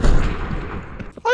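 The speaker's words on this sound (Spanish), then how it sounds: "¿Cómo dio tantos disparos?" Video-game gunfire: a dense, loud burst of shots fading into a short tail, followed by a brief tonal electronic blip at the end, with no talk over it.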